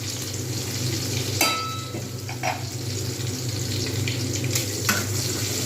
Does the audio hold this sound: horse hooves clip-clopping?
no